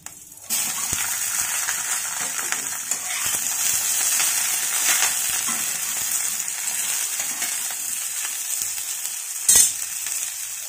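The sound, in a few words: drumstick vegetable frying in pan with spices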